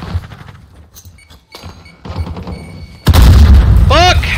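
A grenade goes off in Call of Duty Modern Warfare as a sudden loud boom near the end, coming after quieter game sounds with a voice talking.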